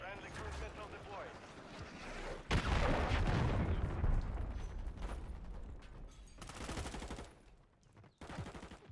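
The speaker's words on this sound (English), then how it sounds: "Friendly cruise missile deployed." A friendly cruise missile strike lands in a Call of Duty match, a heavy sustained roar and rumble with gunfire crackling through it, loud and dense, with brief gaps near the end.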